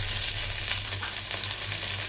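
Onions and prawns sizzle steadily in hot oil with ginger garlic paste and mint for a prawn biryani, a continuous close frying hiss with a low hum beneath and no talk.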